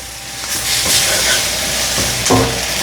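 Onions sautéing in a pan, a loud close sizzle broken by scraping stirs and clinks of the utensil against the pan over about three seconds.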